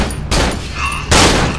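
Gunfire in the horror video game Cry of Fear: two loud, sharp bursts of shots separated by a short pause, with nothing else between them.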